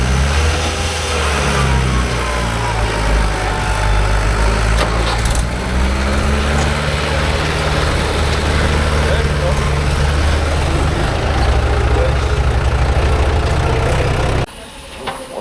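A tractor engine hauls a load of wet lake soil dug by a JCB 3DX, running loud and labouring steadily close by, then cutting off abruptly near the end.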